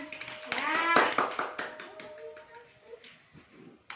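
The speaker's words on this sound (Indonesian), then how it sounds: "Ya, tepuk tangan." A classroom of children claps their hands together in a short burst of sharp, close taps, with a voice briefly heard over the clapping.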